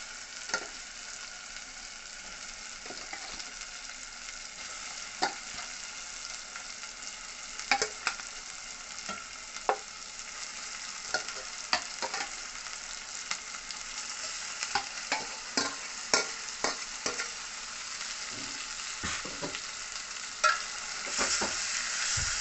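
Marinated country chicken frying in a pan, a soft steady sizzle punctuated by irregular scraping clicks of a spoon stirring it, the stirring taps growing busier toward the end.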